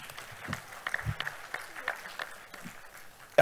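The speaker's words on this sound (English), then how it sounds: "Let us clap." Audience at a conference inaugural session clapping, a short burst of scattered applause close by that trails off within a few seconds.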